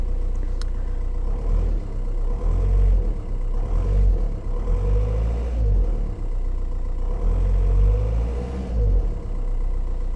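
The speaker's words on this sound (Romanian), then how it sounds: "Deci în orice caz motorul eu zic că sună foarte bine." Volkswagen Touran engine idling steadily, a low, even rumble heard up close with slight fluctuations and no talking over it.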